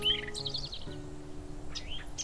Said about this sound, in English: A bird uniquely adapted to life among the branches. The woodpecker.